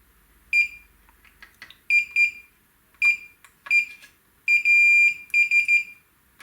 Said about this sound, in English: let's test our continuity on all of our flyback pins here